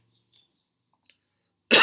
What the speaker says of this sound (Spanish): Voy a toser